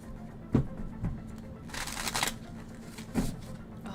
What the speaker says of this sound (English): Oh, these are so fun to shuffle.